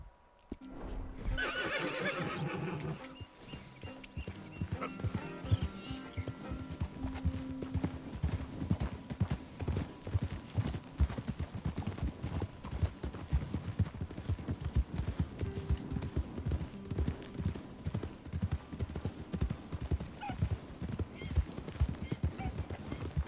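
Horse hooves clip-clop in the Red Dead Redemption II video game, a steady rapid trotting rhythm continuing throughout after a whinny at the start, with game ambience underneath.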